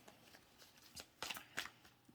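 Tarot cards are shuffled in a quiet, close riffle of soft flicks and brisk papery bursts, with no talking.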